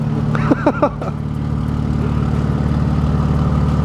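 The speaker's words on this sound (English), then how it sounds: "It's actually not that loud at idle." A BMW G80 M3 with an S58 engine and an Active Autowerke midpipe idles nearby with a deep, steady, droning exhaust rumble. Brief voices are heard over it early on.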